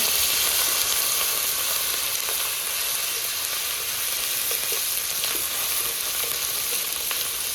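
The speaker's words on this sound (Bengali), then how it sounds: "এবারে কাঁচা লঙ্কাগুলো দিয়ে দেবো পেঁয়াজটা এমনিতে অনেক লাল লাল ভাজা হয়ে গেছে" Onion and green chillies frying in a pan on high heat, a dense continuous sizzle and crackle close up, with occasional stirring and no voices.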